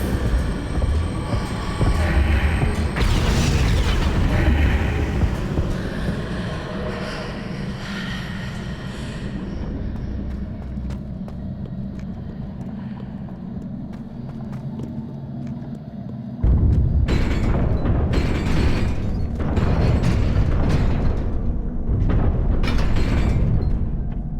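A stone pillar shifted by the Wingardium Leviosa spell in Hogwarts Legacy on Nintendo Switch: a long, loud grinding rumble with booming magical swells, then a heavier burst of rumbling impacts.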